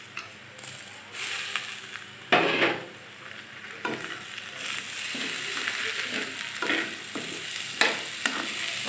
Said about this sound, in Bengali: চালটাকে ভালো করে ভেজে নেব